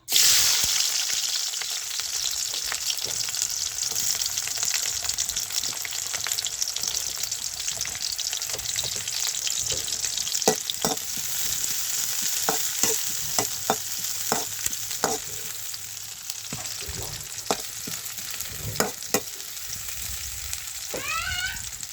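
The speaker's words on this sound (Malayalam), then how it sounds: "ഇതാ നമ്മുടെ ചട്ടിയിൽ ഞാൻ വെളിച്ചെണ്ണ ഒഴിച്ചിട്ടുണ്ട്. അപ്പോൾ നമുക്കിനി ഇതിലേക്ക് സവാള ഇട്ട് കൊടുക്കാം." Sliced onions frying in coconut oil in a pan for a cauliflower masala, a steady bright sizzle running throughout with repeated clicks and scrapes of a spoon stirring, close and fairly loud, no talking.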